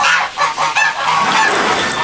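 Geese honk on a farm, a few loud, close nasal calls in quick succession, then overlapping honks from the flock.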